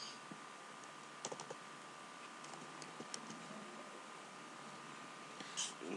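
Scattered keystrokes on a computer keyboard, a few faint clicks spread apart against a quiet, steady room hiss with no rhythm of fast typing.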